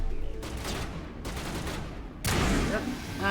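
Gunfire from a sniper in the Mass Effect video game, several sharp cracks and bursts with a loud blast near the end, heard close amid game effects.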